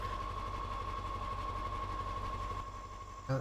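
A truck engine idling in Mudrunner, a steady, fast mechanical chugging with a constant whine above it, fairly quiet and unbroken, then a brief clunk at the end.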